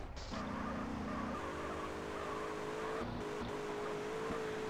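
A car accelerates in the game GTA San Andreas with a steady, even engine drone that rises slightly in pitch, heard alone against a constant background hum.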